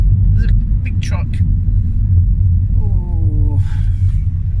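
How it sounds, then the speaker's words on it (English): A big truck rumbles past on a narrow country road, a loud, steady low engine drone close by, with people talking over it inside a car. "There's a big truck."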